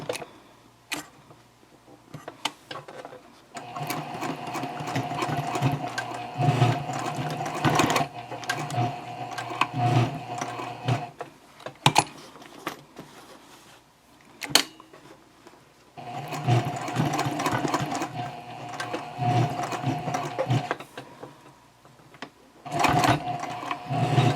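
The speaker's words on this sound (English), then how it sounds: "I'm actually going to pivot and sew back the other way." A home sewing machine stitches across a key fob coin pouch, pivoting and running back over the seam in several bursts of steady mechanical whirring separated by short pauses and small clicks.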